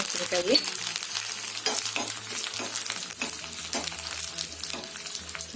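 Spices frying in ghee in a pan for bisibele bath: a continuous close sizzle with scraping stirring, over a faint steady tonal hum in the background.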